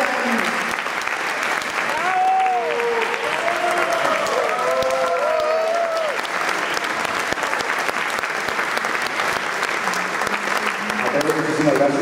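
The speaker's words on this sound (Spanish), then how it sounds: "Un aplauso para ella" Audience applause at a music awards ceremony, sustained steady clapping from a sizeable crowd throughout, with tonal music and voices faintly mixed underneath.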